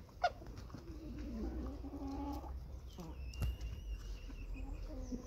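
Hens clucking softly in short bursts nearby in a coop, mixed with a few chirpy bird calls and low background rumble.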